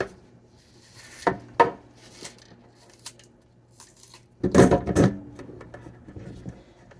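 A knife cuts a kale wrap ingredient in half on a board, with a few sharp chops, a pause, then a louder burst of cutting, close by.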